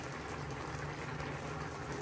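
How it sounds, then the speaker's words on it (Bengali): Fish curry broth made with poa fish, banana flower and Malabar spinach bubbling in a covered pot, giving a steady, dense hiss and simmer that runs unbroken for the whole stretch at close range. "এই ঝোলটা ফুটে উঠছে।"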